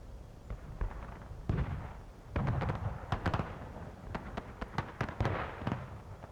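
Civil War artillery cannons firing in a video game battery duel, a steady scattered series of sharp booms and cracks at varying distances, some near and loud, others fainter, with no talk over them.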